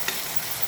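Green chili chutney is stirred in a pan with the stove off, a brief soft scraping over a faint lingering sizzle, heard close and alone.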